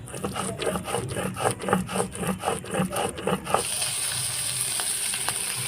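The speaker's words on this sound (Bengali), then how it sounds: "সর্ষে পোস্তটা একদম মিহি করে বাটতে হবে" Mustard and poppy seeds being ground on a stone into a fine paste for a parshe fish curry, a steady rhythmic scraping and rubbing of about ten strokes, close and loud, then giving way to a hissing sizzle.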